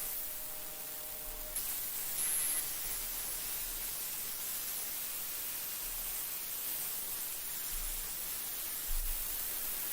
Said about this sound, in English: So we've got a bit crush B.